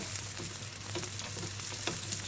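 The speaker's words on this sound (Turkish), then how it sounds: "yuvarlak olanları tek tek kızartacağım" Steady, crackling sizzle of balloon pişi dough frying in hot oil, close and continuous, with faint occasional spattering pops and no voices.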